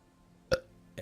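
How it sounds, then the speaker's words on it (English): A single short burp pops out of near silence, followed by a second, smaller throaty catch a moment later, close and fairly quiet. "Wait, I'm gonna burp. Am I gonna burp?"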